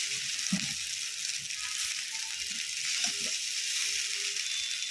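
Vegetables frying in a small wok (kadai) in a home kitchen, a steady broadband sizzle running throughout with a few soft clinks and stirring knocks underneath.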